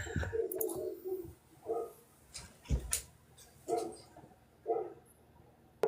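Dogs bark and yip in several short bursts spaced a second or so apart, fairly close and loud against a quiet background, with a few higher whimpering notes between barks.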